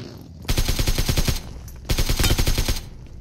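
Gunfire in a battle royale video game, with two loud bursts of rapid automatic fire separated by a short pause.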